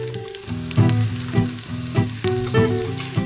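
Browned beef short ribs go back into a hot pot and sizzle loudly up close, with bursts of frying crackle as pieces are set down and stirred, and no talking.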